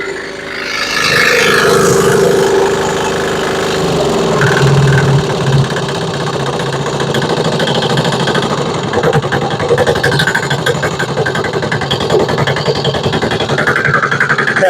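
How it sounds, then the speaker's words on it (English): A small Chinese 168F diesel engine running on homemade diesel revs up freely at wide open throttle, then holds a loud, rattling, busy clatter that rises and falls slightly, close by with no talking. "It's running amazing on my homemade diesel."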